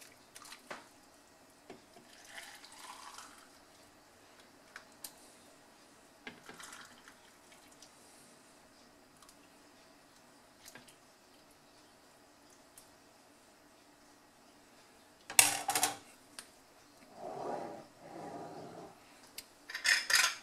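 Boiled water poured into jars of beans while home canning: a long, near-silent stretch with faint clicks and taps, then a short sharp splash and a few seconds of pouring and gurgling close by toward the end.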